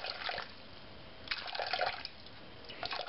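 Water poured onto a kitchen scale as the first bread-dough ingredient, a cup's worth, comes as three short bursts of trickling and splashing pouring with quiet pauses between them.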